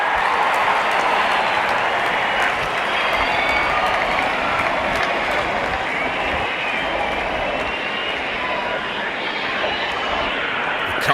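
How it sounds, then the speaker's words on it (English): A cricket stadium crowd at a Delhi Capitals versus Lucknow Super Giants match roars and applauds after a big shot, a dense, loud, sustained wash of cheering and clapping that holds steady throughout. "The crowd is enjoying every bit of this action."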